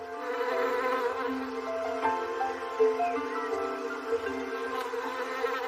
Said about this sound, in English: bees foraging for food in our gardens pollinate our flowers and trees, providing us with a wonderful variety of seeds and fruit